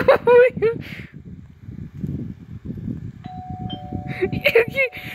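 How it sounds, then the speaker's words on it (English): A two-tone electronic doorbell chimes in the game Bloxburg over excited, overlapping voices talking and laughing nearby. "She's ringing your doorbell."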